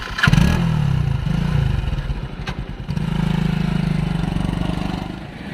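A friend's motorcycle engine runs close by, a low throbbing putter that rises in a short rev, settles, then steadies again into an even idle-like chug.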